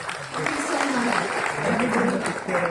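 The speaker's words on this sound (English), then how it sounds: "Would we please give her a huge round of applause?" An audience at an Oppo F1S phone launch event in India applauds Sonam Kapoor, sustained clapping mixed with a loudspeaker voice talking over it.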